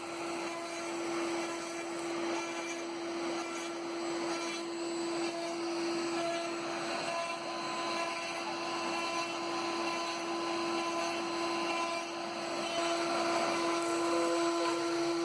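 A CNC router cuts a roughing pass in wood with a plain 1/4 inch end mill, giving a steady, continuous machining drone with a constant tonal hum. The sound holds at an even level throughout, with no talking.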